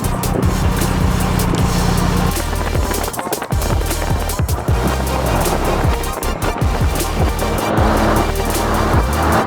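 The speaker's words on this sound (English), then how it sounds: "Is that a Supra? Yeah, it's a Supra." A Toyota Supra sports car engine revs and passes close by with loud roaring and rumbling, over a constant wash of road and wind noise.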